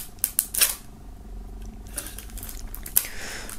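Plastic shrink-wrap foil on a Frozen 2 collector box is cut open along its welded seam, giving several crisp snipping and crinkling clicks in an uneven rhythm, close and moderately loud.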